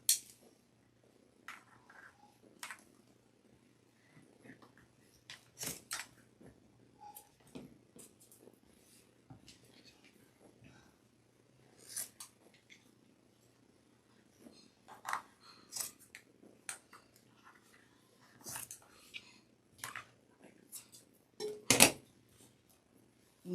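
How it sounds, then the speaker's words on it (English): Scissors snip away excess fabric on a wreath-making craft project, with scattered sharp individual cuts spread across a quiet room, a few sounding louder and closer than the rest. "I'm going to just cut some of this excess fabric."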